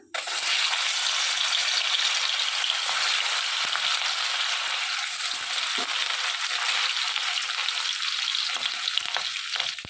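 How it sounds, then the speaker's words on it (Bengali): Turmeric-coated fish frying in a hot wok makes a loud, continuous close sizzle with faint crackles and pops, steady for the whole stretch with no talking. "এখানে আমার কড়াটা গরম হয়ে গেছে এবারে আমি মাছটা তুলে দেবো কড়ার মধ্যে"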